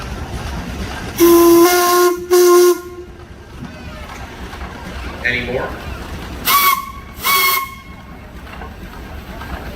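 Antique steam traction engines at a Sycamore, Illinois steam show sound their whistles: two loud, sharp blasts, a short pause, then two more shrill blasts, with a brief voice in between.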